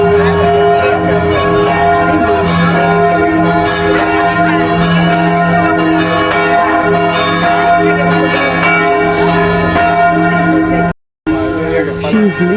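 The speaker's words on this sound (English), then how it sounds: "She's listening the church bell." Church bells ring out in an Italian piazza, loud and sustained tones layered continuously for around eleven seconds, with a brief gap before the ringing resumes.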